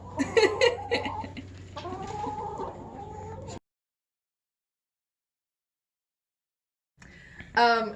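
Chickens on a poultry farm, including fluffy white rock hens, clucking and squawking close by in short busy bursts, with a long silent gap before a final loud squawk.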